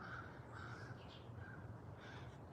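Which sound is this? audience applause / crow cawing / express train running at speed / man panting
crow cawing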